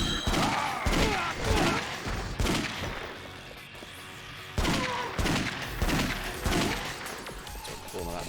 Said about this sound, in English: Even with Majima's upgraded shotgun.